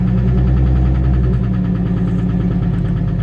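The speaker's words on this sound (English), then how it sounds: "That's definitely an engine." A blown Infiniti G37 coupe engine idles in a steady, low rumble, continuous, close and enclosed, heard from inside the car, with no talking.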